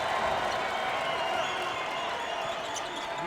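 A college basketball crowd at an LMU versus Gonzaga game roars and applauds after a dunk, a steady, fairly loud wall of cheering with sneakers squeaking and faint talk beneath.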